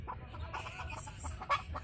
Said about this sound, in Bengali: এই দেখেন কত সুন্দর দেশি মুরগি চড়ছে।